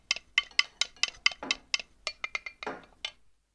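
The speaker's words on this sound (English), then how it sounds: "Cillian stirs the mixture with a wooden spoon." A wooden spoon stirring a Play-Doh mixture in a bowl: a steady series of about fifteen sharp knocks and scrapes against the bowl, close and fairly loud, with no voices.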